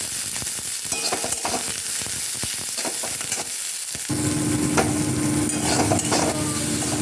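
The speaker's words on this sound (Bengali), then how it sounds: "এবার এই সবজিটা যখন ভাজছি" Vegetables for basanti pulao fry in a pan with a continuous loud sizzle and the repeated scrape of stirring, the hiss swelling fuller and steadier partway through.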